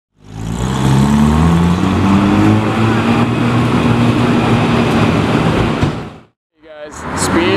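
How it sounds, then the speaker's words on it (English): A Porsche Carrera GT's V10 exhaust roars past loudly and close for about six seconds, a sustained powerful drone that cuts off abruptly before a brief higher rev. "Oh, I can hear that exhaust."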